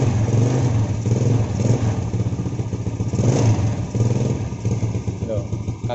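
Yamaha Jupiter Z motorcycle with black spark plug, struggling to start, then running with the throttle held as a steady low engine drone with uneven revving, close by, under continuous talk.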